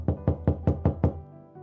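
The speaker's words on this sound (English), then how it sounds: "Someone knocked on their door." Six firm, evenly spaced knocks on a door, close and resonant with a hollow low thump, followed by quiet.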